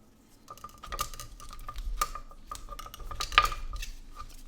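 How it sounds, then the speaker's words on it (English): A knife taps and clicks against a cutting board or plate while grapes are halved, giving a quiet series of light clinks and knocks, spaced irregularly, close by, with no talking. "what I like to do with the grapes is cut them in half"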